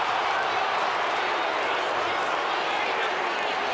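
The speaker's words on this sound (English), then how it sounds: "Good to hear the crowd in full voice." A stadium crowd roars at an Australian football match between St Kilda and Brisbane, a dense, continuous wash of cheering that holds steady under a commentator's voice.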